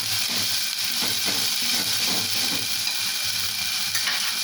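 Onions frying in oil in a pan, a loud continuous sizzle close by with rhythmic stirring scrapes, no talking.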